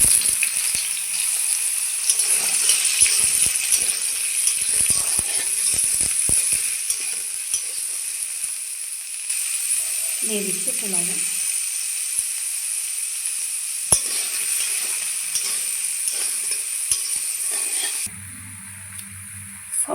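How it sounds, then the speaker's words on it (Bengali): Soybean chunks sizzle and hiss steadily in hot oil in a wok, a dense continuous frying noise with occasional stirring clatter, and a voice speaks briefly before the sizzle drops away near the end. "সয়াবিনগুলো ভেজে নেব।"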